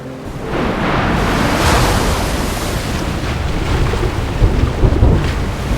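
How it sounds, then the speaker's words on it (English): Ocean waves crash and roll in the video game LADS, a loud continuous surging wash with a swelling roar and heavier bursts near the end, with no voices. "Of course, these waves"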